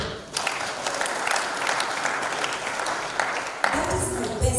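An audience at a seminary graduation ceremony applauds with steady, dense clapping that swells after a brief start and continues to the end.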